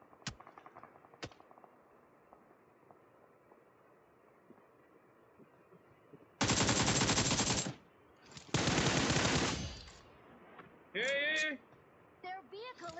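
Gunfire in PUBG Mobile: two long, loud bursts of automatic fire and a shorter third burst stand out against a quiet backdrop with a few isolated shots, and players talk at times.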